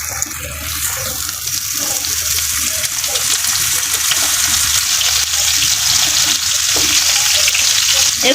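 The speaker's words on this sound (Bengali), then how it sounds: "একে একে বেগুন ভাজিটা দিয়ে দেব।" Eggplant slices hiss in hot oil in a frying pan, giving a loud, continuous, broadband sizzle that stays steady and close throughout.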